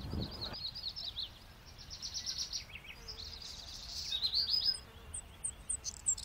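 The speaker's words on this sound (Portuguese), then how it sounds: "O canto das aves é a trilha sonora da natureza" Wild birds sing in the open outdoors, with faint high chirps and trilled phrases repeating over a quiet background hiss, distant and soft.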